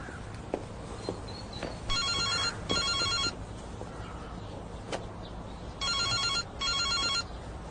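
A cell phone rings in two pairs of bright, electronic trilling bursts separated by a pause, over a quiet room with faint knocks and footsteps.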